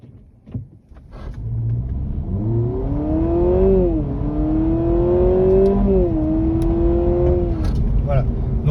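A Honda Civic e:HEV hybrid sedan accelerates hard in sport mode, a steady rising engine and motor drone heard from inside the cabin, its pitch climbing and dipping through shifts, fairly loud throughout.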